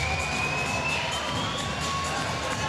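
A dense arena crowd at a BAMMA 29 MMA event cheers and shouts loudly and continuously after a three-round fight, the roar sustained without a break.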